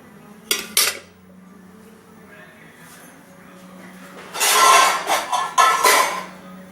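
A metal lid clatters onto a pot of simmering mutton curry: a pair of sharp clanks early on, then a louder run of scraping and rattling metal near the end, heard close with low kitchen background.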